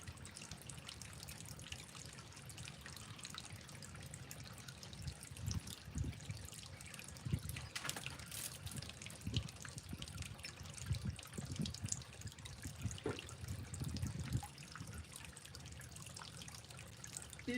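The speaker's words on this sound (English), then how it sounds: "Depending if the water is overflowing or if it's splashing out." Water from a three-tier garden fountain splashes and trickles steadily on a sunny day in a Southern California bird garden, a soft continuous patter with occasional brief louder drips and splashes, no talk.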